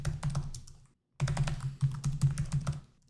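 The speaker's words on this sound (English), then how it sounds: "I'll type in a dummy password." Keystrokes on a computer keyboard entering a dummy password during Arch Linux setup, a quick run of close, crisp clicks, a brief pause near the one-second mark, then a second, denser burst of typing; no voices.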